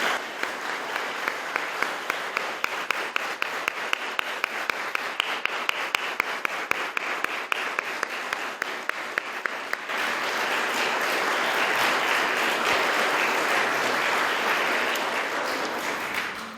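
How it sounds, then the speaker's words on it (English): An audience applauds the poets standing at a peace poetry contest, a sustained wash of clapping with a few sharp, regular louder claps standing out in the first half, then a denser even ovation. "we can give you a round of applause"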